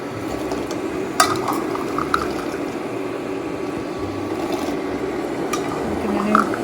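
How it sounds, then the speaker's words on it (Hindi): Cranberries are tipped into a pan of simmering sugar syrup, giving a steady bubbling, liquid hiss with a few sharp clinks and splashes near the start and end, close by and with no speech. "तो ये आप ये समझ लें कि सिंपल सा सिरप बन रहा है। 1 कप जो है क्रैनबेरीज डालेंगे।"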